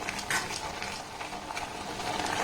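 A thick, sugar-free sandesh sweet mixture simmers as it is stirred in a pan, with quiet, rhythmic scraping strokes over a soft bubbling bed.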